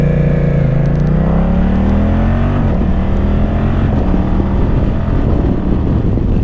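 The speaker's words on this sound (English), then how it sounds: "let me go up a gear with a quick shifter" A motorcycle engine revs loud and close while shifting up a gear with a quick shifter, its pitch climbing, dropping briefly at the shift, then rising again in a steady drone with no speech.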